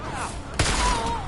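A single sharp gunshot from the player's own gun in Deus Ex: Mankind Divided, one loud close crack midway, with faint game ambience and a soft tonal hum around it.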